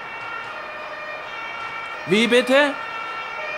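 Police car sirens in Frankfurt hold a steady, continuous tone in the background while a person briefly asks a question over them.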